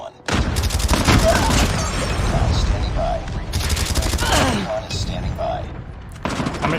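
RU-79 gun firing in Call of Duty Mobile, with rapid bursts of automatic gunfire that run nearly continuously and loudly across the clip, broken by brief pauses, with a voice heard faintly beneath.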